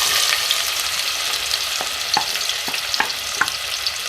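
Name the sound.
onions frying in oil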